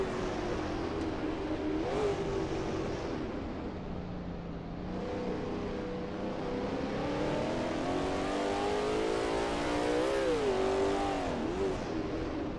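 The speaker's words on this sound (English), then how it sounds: "That ASRL T70 MkII Spyder looks good driving through turn 4." Lola T70 MkII Spyder race car in a racing game at Road America, its engine droning loud and steady with rising and falling revs through the corners, no voices over it.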